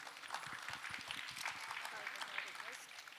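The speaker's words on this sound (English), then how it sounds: "A big round of applause for sir" A school audience at an annual function applauds a guest, with quiet, fairly steady clapping and scattered sharper claps, set back at a distance.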